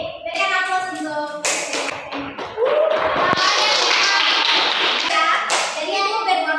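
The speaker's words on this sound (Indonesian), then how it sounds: "berikan aplaus untuk" A classroom in an Islamic law lesson breaks into applause from the students, a dense burst of clapping that swells after a few seconds and carries on steadily, mixed with children's voices.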